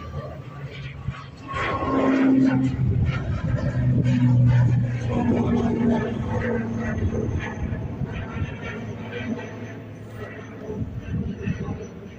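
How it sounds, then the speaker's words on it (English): A Logan Air flight departs Dublin Airport for Aberdeen, its engine a steady broad roar that swells over the first seconds and then holds, with voices talking over it. "Here we go, LM52, this Logan Air flight heading over to Aberdeen."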